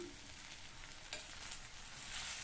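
Roasted gram powder is stirred into cooked snake gourd in a pan, making a soft, continuous scraping and gentle sizzle close by, with no talking.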